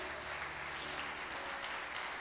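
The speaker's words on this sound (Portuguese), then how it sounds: "Aplauda o Senhor" Church congregation applauding during a Portuguese-language sermon, a faint, dense, continuous patter of many hands clapping at a distance, with a low hum underneath.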